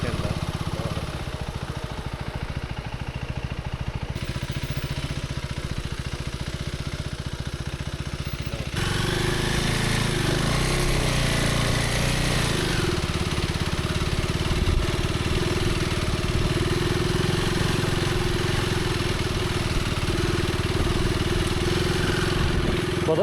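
A Myanmar-made scooter at the India–Myanmar border village of Longwa runs with a steady, close engine idle that grows fuller and louder partway through and carries on without a break.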